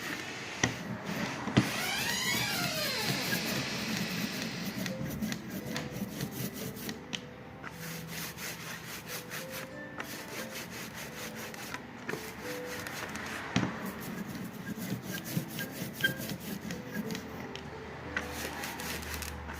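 A hand roller spreads printmaking ink across a plate in repeated rubbing, rolling strokes, close and fairly quiet, with faint tacky crackles between passes and no talking.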